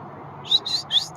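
Three quick, high bird chirps close together, clear over a faint background.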